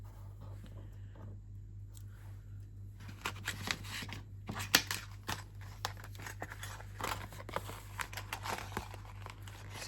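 Black cardstock being die cut into bat shapes, with quiet papery rustles and crinkles giving way to a dense run of sharp clicks and crackles as the sheet is handled and cut, close and faint over a low hum.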